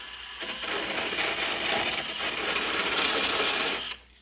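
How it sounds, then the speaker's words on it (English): A small high-pitched cordless die grinder with a sanding disc whirs against plastic for several seconds with a rough grinding texture, then cuts off abruptly. "this little cordless, I call it a die grinder, they call it a polisher"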